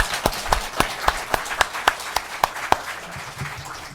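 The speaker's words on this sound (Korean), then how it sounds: "박수하겠습니다" A church congregation stands and claps in thanks for retiring pastor Lee In-su at his emeritus installation, with distinct, evenly spaced loud claps at first that fade into a softer patter near the end.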